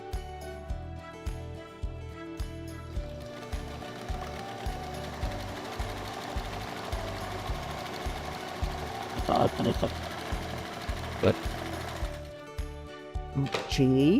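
A sewing machine runs in steady mechanical bursts, stitching fabric closed on a zipper pouch, with a few brief pauses and a short spoken word partway through.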